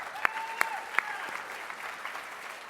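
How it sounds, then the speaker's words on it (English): Applause from a dinner audience at a Jewish Caucus summit event, a steady wash of clapping with a few sharp louder claps standing out near the start, continuing evenly at moderate distance. "please give him a round of applause."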